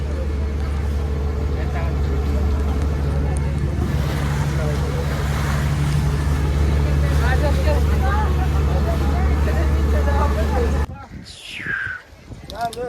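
A motorboat on the sea near Elephanta, Mumbai: a low, steady engine drone with wind and water noise runs continuously, close by, then drops away near the end as a voice speaks briefly.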